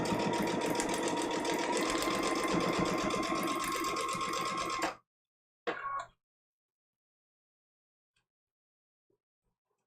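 Sewing machine running steadily and loudly while stitching quilt block seams for a tiny woven logs block, then stopping abruptly, followed by a brief short burst and near silence.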